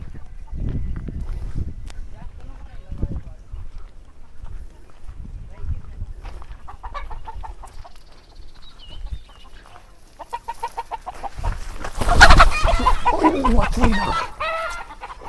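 Chickens cluck close by in bursts, and a rooster crows loudly partway through, with people talking over the commotion.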